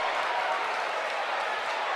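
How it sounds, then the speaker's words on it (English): High school basketball crowd roaring and applauding after a dunk putback in a gym, a dense, sustained wash of cheering and clapping. "The crowd going wild here."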